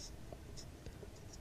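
Pen or chalk writing numbers during a Class 10 coordinate geometry maths lesson, faint scratchy strokes in short taps over low background noise.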